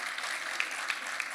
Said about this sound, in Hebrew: מגיעות לכם מחיאות, כפיים סוערות